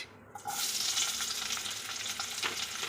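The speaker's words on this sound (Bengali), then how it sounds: "এখন এই কড়ার মধ্যে দিয়ে দিচ্ছি পেঁয়াজ" Onions go into a hot wok, and after a brief quiet moment a loud, steady sizzle bursts up and keeps crackling with no one talking.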